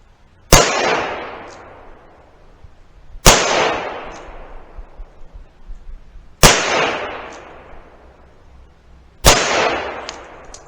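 Four .38 Special rounds fired from a Colt Trooper Mark III revolver at a target range, each a sharp loud crack with a decaying tail, spaced roughly three seconds apart.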